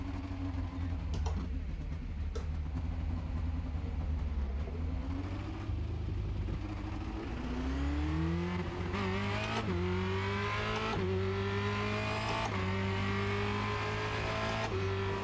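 A Formula Renault 2.0 racing car in a video game at Charlotte Motor Speedway Roval, its engine revving up through repeated gear changes with rising whines, brief lifts and squeezes back onto the throttle.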